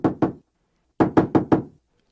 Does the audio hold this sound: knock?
yes